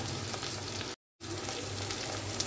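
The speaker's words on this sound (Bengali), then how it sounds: "কষাচ্ছি এবার এটাকে ভালো মতো।" Mustard, garlic and chili paste fries with onion and tomato, turmeric and salt in a pan, giving a steady close sizzle that cuts out briefly and then resumes at the same level.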